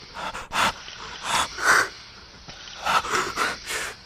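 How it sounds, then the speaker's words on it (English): Someone gasps for breath in a series of sharp, close, airy intakes and exhales, coming in irregular bursts with short pauses between them. "Suddenly you gasp for breath."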